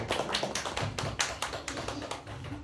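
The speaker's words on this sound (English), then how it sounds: "Let's welcome him with a nice round of applause." An audience gives a round of applause at a lecture, a steady patter of light claps at moderate distance, fairly quiet, with no talking over it.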